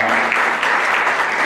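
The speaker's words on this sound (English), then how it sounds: "Christopher Dukes, I think he deserves a round of applause." A university audience applauds a student conduct office staff member, with dense, steady clapping that holds at an even level throughout.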